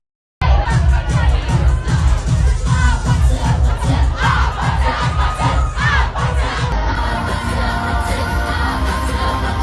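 A large crowd roars and shouts together in a loud, continuous wall of cheering with rhythmic chanting pulses.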